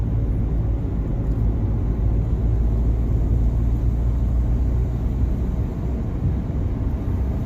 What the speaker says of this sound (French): je vais peut-être accélérer un peu ici, en sortie de virage